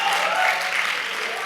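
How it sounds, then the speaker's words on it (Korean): An audience at a lecture giving a round of applause, a dense, even wash of clapping that holds steady throughout. "좀 박수 한번 쳐줘요"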